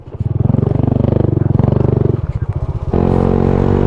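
An adventure motorcycle rides over gravel, its close, steady engine drone pulsing evenly, then stepping up to a higher, smoother pitch near the end as the rider accelerates or shifts. No talking.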